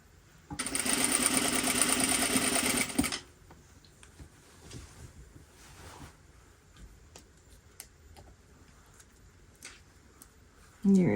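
A sewing machine runs in one fast, steady burst of stitching for about two and a half seconds as it double-stitches fabric at the bottom edge of a pocket. Quiet handling of the fabric follows, and the machine starts again briefly at the end.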